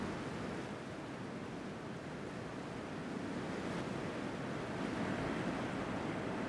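Ocean waves washing onto a beach, a steady, broad roar of surf heard from a moderate distance, continuous and even with no voices.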